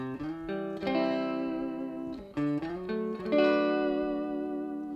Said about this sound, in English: Here's what it sounds like with no reverb on it.